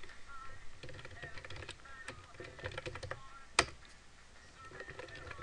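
Soft keystrokes tap on a computer keyboard as a password is entered, a quiet, uneven run of clicks with one sharper key press standing out near the middle.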